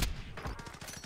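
Rapid gunfire in Call of Duty Warzone crackles in a quick burst of repeated shots over about a second, fairly quiet in the mix.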